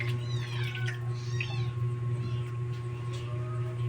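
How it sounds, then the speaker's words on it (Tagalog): Domestic cats meow repeatedly after smelling fresh tuna, giving several high, rising calls close by over a steady low hum, with a brief voice in the background. "Masaya na naman yung aking mga pusa. Nakaamoy sila ng isda."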